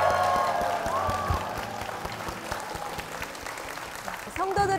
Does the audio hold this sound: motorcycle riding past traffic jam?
no